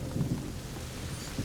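Thunder rumbles in the video game A Plague Tale: Innocence, a low, rolling crack that peaks twice over a steady wash of rain and storm noise.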